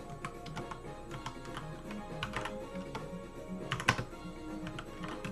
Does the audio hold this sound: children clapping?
no